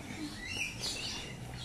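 Birds chirp and tweet in a park aviary, soft scattered calls over a steady low background hum, with a faint murmur of people nearby.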